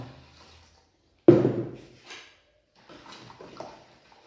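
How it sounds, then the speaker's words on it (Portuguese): A litre of water is dumped into a bowl, with one sudden loud splashing gush that fades over about a second before quiet, faint handling noises follow. "E vou colocar o meu 1 litro de água."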